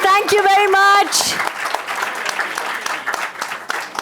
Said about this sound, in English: Big round of applause for these amazing gentlemen.